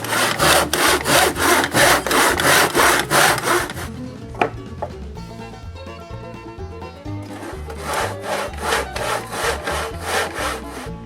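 A hand saw cuts wooden window frame pieces to length in loud, rhythmic back-and-forth strokes, pauses briefly with a few knocks, then resumes sawing close by.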